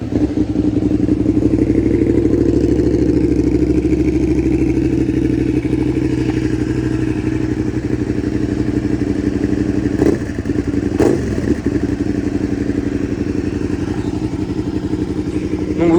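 A 2018 Suzuki SV650 motorcycle engine idles steadily and close by, a continuous deep rumble with a couple of brief clattering thumps partway through.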